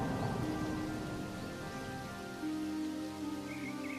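Rain falls steadily on a village hut as a constant soft hiss, with sustained musical tones layered over it and no talking.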